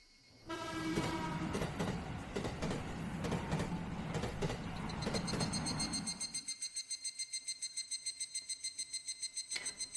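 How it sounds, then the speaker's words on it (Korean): A short train with only a few cars rushes close past along a school route with a loud, broad roar, then fades into a steady rhythmic clatter of wheels over rail joints. "차량이 적은 기차가 내 옆을 지나간다"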